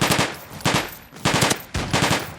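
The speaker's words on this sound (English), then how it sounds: "This is a burst submachine gun secondary." A burst submachine gun in a video game fires four quick bursts of several rounds each, evenly spaced, loud and close, with no talking.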